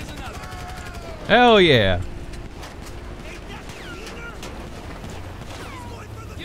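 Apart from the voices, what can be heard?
gunfire in the video game GTA V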